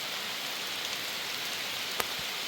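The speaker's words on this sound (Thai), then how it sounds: "ฝนกระหน่ำเต็มที่เลย" Heavy rain pours over open rice fields as a dense, constant hiss of downpour, fairly close and even throughout, with no voices.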